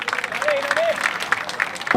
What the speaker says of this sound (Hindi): एक बार फिर विघ्नेश के लिए तालियां बजाकर।